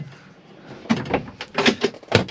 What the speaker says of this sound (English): you've got a drawer on the front there